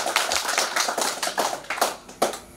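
Audience clapping at a political rally in Manggarai: a few loose bursts of hand claps, uneven and fairly close, with no talk over them.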